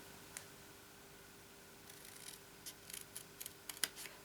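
Scissors snip through card in a quick series of faint, close clicks and crisp cuts, starting with one isolated snip and then bunching toward the end, with no talking.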